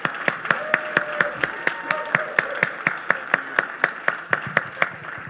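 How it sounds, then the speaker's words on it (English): A small studio audience keeps up a steady, rhythmic clapping while guests, a football player and his mother, walk to the stage, sharp evenly spaced claps with a faint voice briefly underneath. "Keep clapping, they're still walking."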